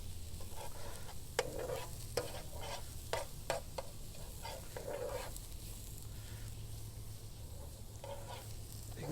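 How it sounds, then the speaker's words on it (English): Cauliflower rice with spring onion stirred in a frying pan with pork fat and juices, a low steady sizzle broken by repeated scraping and clacking strokes of the utensil, close and moderately quiet. "Get it stirred."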